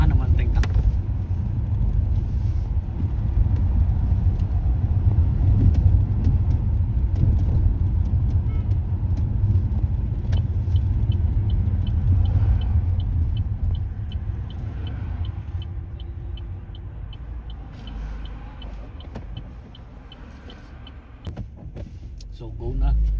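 A car rolls slowly along a road in Manchester, United Kingdom, giving a steady low rumble of engine and tyres that eases slightly toward the end, with some faint voice-like sound mixed in.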